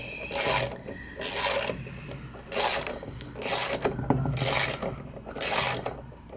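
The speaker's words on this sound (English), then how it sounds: "Now let me get my last bolt in." Hand ratchet driving in a bolt, giving six evenly spaced bursts of raspy clicking, each about half a second long, close by and fairly loud, with no talk.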